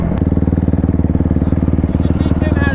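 A mini bike engine revs hard and close during a wheelie, its rapid pulsing putter loud and steady throughout, with a brief clatter at the start and voices talking underneath.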